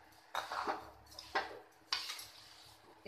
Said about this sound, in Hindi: इसमें चीनी जाएगी और अच्छे से इसे हम मिलाएंगे इस तरह से लगातार चलाते हुए